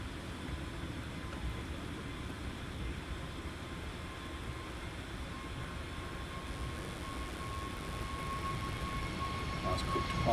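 An airplane takes off from Luton Airport with a steady broadband jet roar that builds slightly toward the end, heard from a distance as a continuous rumble with a faint tonal whine.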